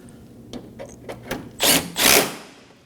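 A 10mm bolt on a Nissan Armada headlight run in with a power driver, several short whirring bursts building into two longer, louder buzzing spins, close up with no talking.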